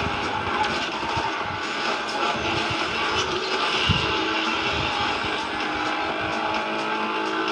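Race car engines roar together at the start of a race in Asphalt 9 Legends, a dense, steady, loud engine wash with one sharp burst near the middle and no talking.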